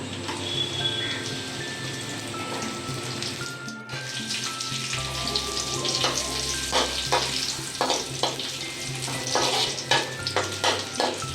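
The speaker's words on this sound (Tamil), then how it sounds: "இப்போ இது கூட நம்ம வச்சிருக்க பாதாம், முந்திரி பழம், அண்டிப்பருப்பு, பழம் அதெல்லாம் வச்சு வறுத்து எடுத்துக்கலாம்." Almonds, cashews and raisins fry in a hot kadai for bread halwa, giving a steady close crackling sizzle with scraping stirs and a few sharper pops toward the end, no talking.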